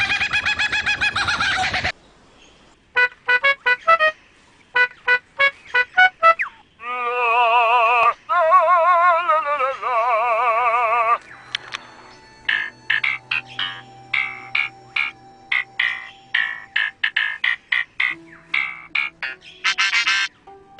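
A lyrebird named Chook at Adelaide Zoo in Australia runs through a loud, varied string of mimicked sounds, shifting from clucks and sharp rhythmic clicks to warbling mechanical tones and rapid chirps, with brief gaps between segments and no talking.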